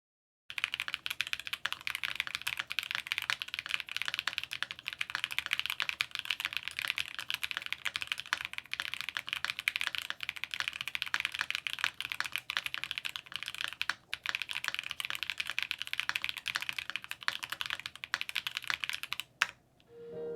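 Steady, fast mechanical keyboard typing, close and continuous for about twenty seconds, with crisp clacky keystrokes and no talking.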